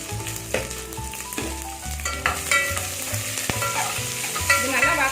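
Small onions cut lengthwise and two green chillies sautéing in a pan for idli sambar, with a steady close sizzle broken by repeated scraping stirs of a spoon across the pan.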